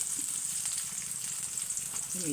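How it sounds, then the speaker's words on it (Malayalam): Onions frying in hot oil in a cheenachatti (iron wok), a soft steady sizzle running throughout at low level, with a brief clink near the end. "ഉള്ളി വഴറ്റാൻ പോവുകയാണ്"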